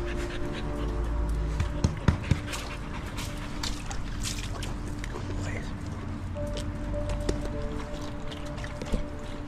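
A rescue dog pants and licks close by, with soft wet smacking and breathy panting in steady irregular bursts under a quiet indoor background.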